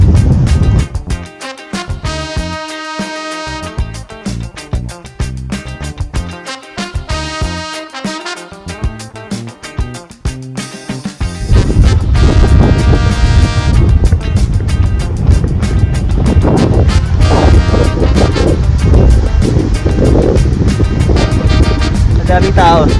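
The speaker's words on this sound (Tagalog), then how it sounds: "Ang lakas ng hangin." Strong wind gusts across a long dark lahar-sand beach in Pangasinan, a loud steady roar that swells and fills the second half, with people talking throughout and busy sounds of the crowd.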